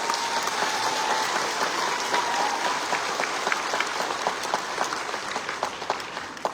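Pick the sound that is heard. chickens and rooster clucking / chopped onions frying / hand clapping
hand clapping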